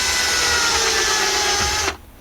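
A small high-pitched drill with a 2.5mm bit whines steadily for about two seconds while boring holes, close and loud, then stops abruptly.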